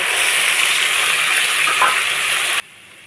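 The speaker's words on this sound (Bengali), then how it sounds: "তেলটা গরম হয়ে গেছে এখন পেঁয়াজ বাটাটা দিয়ে" Onion paste sizzling in hot mustard oil for methi chicken curry, a loud steady hiss and crackle for over two seconds that cuts off abruptly into quiet.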